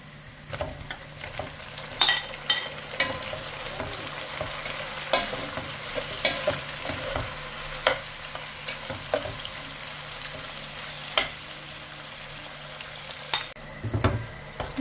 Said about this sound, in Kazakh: Етімізді шамалы қуырып алдық.